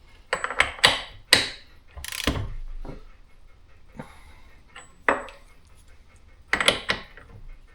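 Deep well socket ratcheting on a 2024 KTM 500 EXC-F motorcycle during spring work, heard as short bursts of close metallic clicking and clanks separated by brief pauses.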